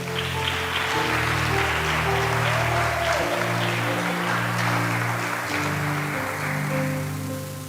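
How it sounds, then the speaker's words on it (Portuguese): Church congregation applauding during a Portuguese-language sermon, a sustained, loud wash of clapping over low, steady sustained tones, probably organ or keyboard, in the background. "Você pode aplaudir o Senhor por isso?"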